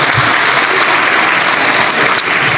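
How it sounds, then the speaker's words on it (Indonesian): An audience applauds steadily and loudly, a dense wash of clapping hands at a business seminar that holds without pause throughout. "Oke, berikan aplaus dulu ya."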